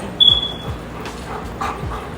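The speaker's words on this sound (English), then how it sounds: "He's a pretty dog." A dog lets out a thin, high whimper followed by a few soft, muffled yips against a quiet indoor background.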